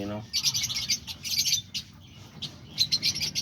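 Pet diamond doves and other caged birds such as parakeets and lovebirds chirping in quick bright bursts, fairly close, with soft background noise and no talk.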